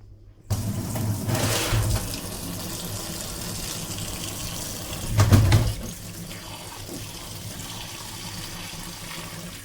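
Cleaned locomotive generator brush box parts rinsed under a running tap, a steady water hiss with two louder gushes as the stream hits the metal pieces, close and with no talking.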